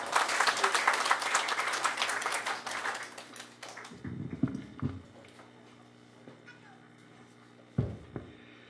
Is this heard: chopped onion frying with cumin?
no